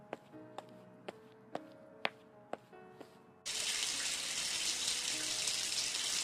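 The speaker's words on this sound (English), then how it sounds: "I go to the bathroom and take a nice shower." Shower water running in the game Carpe Diem: Reboot, a loud steady rushing spray that starts abruptly halfway through, preceded by a few sharp rhythmic clicks over quiet room tone.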